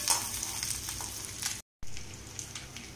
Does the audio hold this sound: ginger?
yes